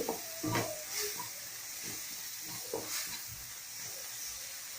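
Tomatoes and masala sauté in a pan for egg gravy, giving a soft continuous sizzling hiss with a few faint stirring scrapes, quiet and close.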